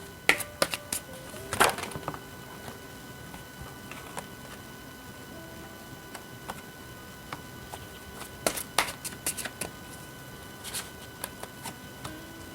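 Tarot cards being handled and shuffled up close, soft papery flicks and riffles with a couple of brief busier bursts over a quiet room background, no speech.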